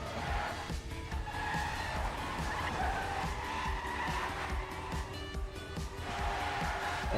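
Cars drift through a racing video game with sustained tire squeal and skidding over a continuous engine drone, with a commentator talking over it.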